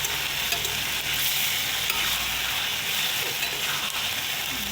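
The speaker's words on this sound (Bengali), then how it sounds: "কড়াইতে দিয়ে দিলাম কষাচ্ছি" Meat being sautéed and stirred in a wok (kadai) for a Bengali meat curry, giving a steady, close, loud sizzle and frying hiss throughout with faint scraping of stirring and no talk.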